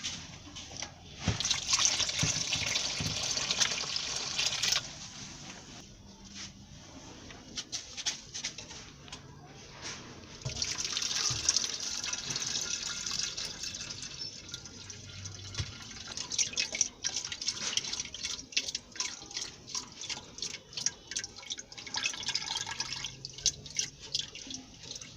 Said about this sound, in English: I'm going to add more water to this so that it will give me the desired quantity that I want.